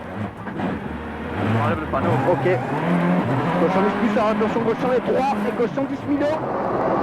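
A WRC rally car at Rally Australia 2003 spins and skids on gravel, its engine rising and falling with scrabbling tire noise, while a commentator talks over it.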